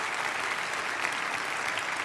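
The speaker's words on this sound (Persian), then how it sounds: "تشویق بکنین، تشویق بکنین شما" Dense, steady applause from an audience fills the whole stretch, a continuous wash of many hands clapping at an even level with no voices standing out.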